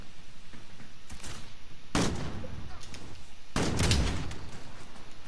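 Video game gunfire, two sharp loud bursts of shots about two seconds apart over a low rumbling background, with scattered lighter clicks between.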